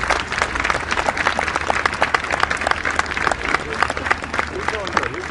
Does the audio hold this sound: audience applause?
yes